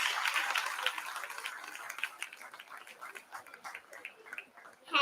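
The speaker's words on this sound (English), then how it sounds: "Please give them a loud applause." Audience clapping for performers at a Janmashtami celebration, a burst of applause that starts fairly loud and thins into scattered claps as it fades.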